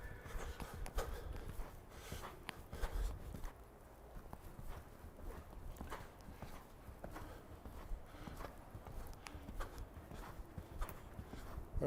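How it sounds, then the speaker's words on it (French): Horse cantering gently in a training arena, hooves clip-clopping in a steady rolling rhythm throughout, moderately close with faint background noise. "Allez, on repart au galop, doucement."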